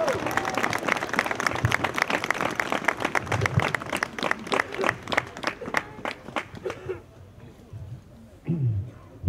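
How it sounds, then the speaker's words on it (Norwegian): Crowd applause at a pro-Israel support rally in Oslo, dense rapid clapping that carries on for several seconds before thinning out, followed by a few scattered claps. "Gi ham en stor applaus."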